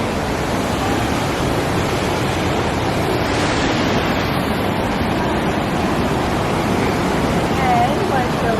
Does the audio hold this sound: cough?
no